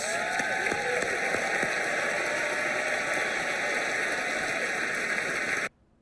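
Studio audience applause on a late-night comedy talk show, a dense steady wash of clapping with a few shouts rising through it, loud and continuous for nearly six seconds before cutting off abruptly.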